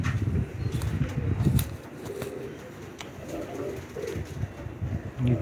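Topi pigeons coo in low, throaty, repeated calls close by, with some rustling and faint background noise throughout.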